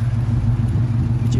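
Dodge Challenger with a 5.7 liter engine and dual exhaust, idling with a steady low, loud rumble close by.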